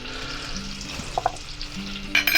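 Chicken pieces frying in a pan over low heat on a narrowboat stove, a soft steady sizzle with a few light clicks and clinks, heard alone.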